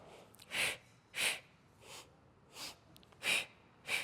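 Six short, sharp nasal sniffs spaced about every two-thirds of a second, each a quick hissy inhale taken as a sniffing breath during a Pilates exercise, close and fairly quiet, with no talking.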